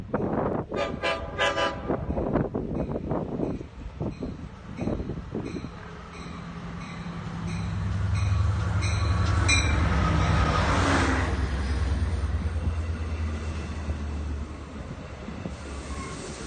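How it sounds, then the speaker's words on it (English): A Long Island Rail Road extra train, a five-car set, passes at Westhampton: horn toots early, then a loud rumbling roll of wheels builds and fades, with wind buffeting the microphone. "this extra train turned out to be a 5-car set"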